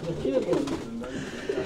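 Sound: pigeons cooing, Sialkot high-flying breed

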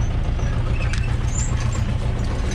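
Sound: Ursus C360 tractor engine revving

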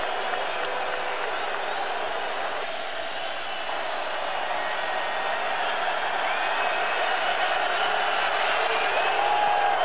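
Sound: Kentucky football crowd cheering

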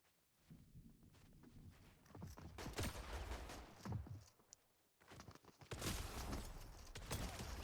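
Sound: gunfire in video game

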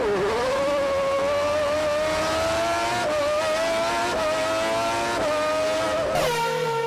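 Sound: car driving at speed in a mobile video game

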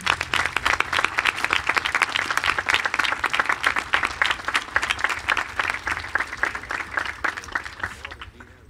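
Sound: concert audience applause

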